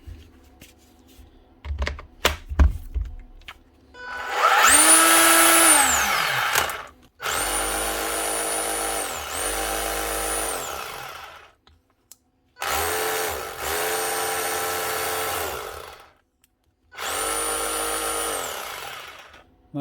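A repaired Panasonic EY7880 28.8-volt cordless SDS drill runs in several loud bursts of a few seconds each, with a high whine that spins up and winds down and short silences between the runs, after a few light clicks at the start.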